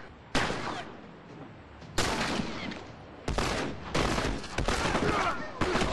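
Gunfire in The Last of Us multiplayer, several loud sharp shots and short bursts at irregular intervals, each with a reverberant tail.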